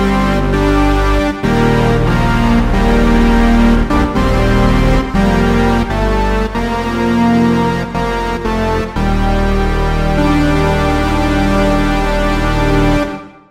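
A wide Euro-style supersaw synth pad made in Massive plays sustained, loud chords in a thick, bright stack, changing every second or so with brief gaps before a sudden stop.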